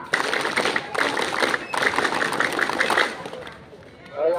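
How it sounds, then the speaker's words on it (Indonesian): An Indonesian scout group performs its patterned clap at a school scout anniversary ceremony, a crowd clapping in rhythmic bursts mixed with voices for a few seconds before fading. "Tepuk pramuka."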